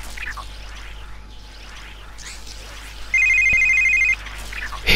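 A bright electronic phone ring in the video game City Shrouded in Shadow (Kyoei Toshi) sounds in one steady burst for about a second, over a low ambient hum and faint background noise.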